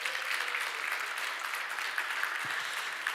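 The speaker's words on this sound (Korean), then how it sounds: "박수 한번 부탁드립니다." Church congregation at a Korean church in Baltimore applauds newly installed deaconesses during an anniversary service, an even, moderate wash of clapping across the whole stretch.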